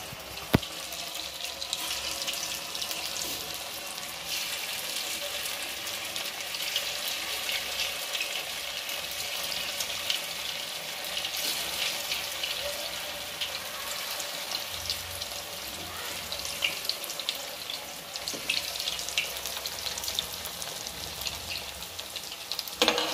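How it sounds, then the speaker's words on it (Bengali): Chira pitha balls fry in hot oil, giving a steady, close hiss and sizzle that runs continuously with little variation and no voices. "তেল গরম হয়ে গেছে, এবার আমি একটা একটু করে বলগুলো দিয়ে দেবো তেলের মধ্যে।"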